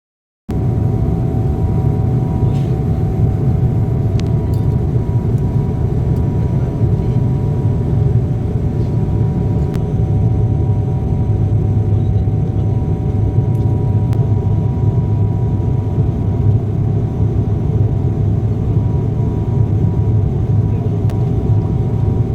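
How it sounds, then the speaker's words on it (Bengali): Inside a passenger airplane on its landing approach with the wheels lowered, a loud, constant low engine and cabin rumble drones without a break. "এবার আমাদের ফ্লাইট ল্যান্ড করবে, দেখতেই পাচ্ছ ল্যান্ড করার জন্য চাকা দুটো কি সুন্দরভাবে বেরিয়ে গেছে।"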